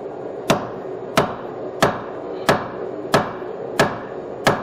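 A hammer strikes a weld-crusted piece of rebar on a hardy cutoff tool in seven loud, evenly spaced ringing blows, each with a short metallic decay.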